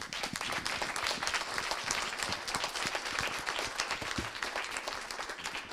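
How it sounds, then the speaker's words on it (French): Audience applause for the ethologist Alban Lemasson at the close of a talk on primate communication, a steady dense clapping from a seated crowd that holds evenly throughout. "Merci beaucoup Alban Lemasson, on peut vous applaudir."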